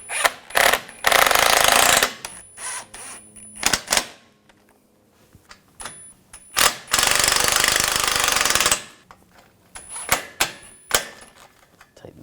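Screws on a 2004–2009 Audi A4 AC condenser are driven tight with a power tool in loud rapid bursts of rattling clatter, separated by quieter gaps holding small clicks and handling noises.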